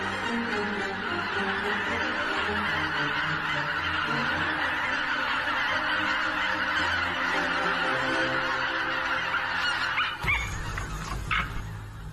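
A huge winter flock of geese in Poland honks continuously, with many overlapping calls forming a loud, steady clamor and a few sharper honks standing out near the end.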